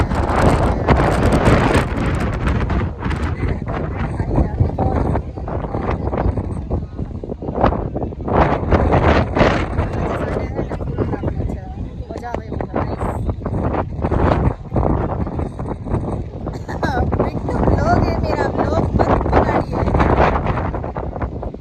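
Strong wind buffets the microphone in loud, continuous roaring gusts, with muffled voices occasionally audible beneath.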